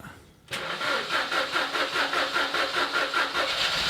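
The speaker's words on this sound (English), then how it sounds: "The engines do start." A 2007 Ford Focus 1.6 that has sat abandoned for nearly three years cranks and fires up after a short pause, then settles into a steady, slightly pulsing idle close by.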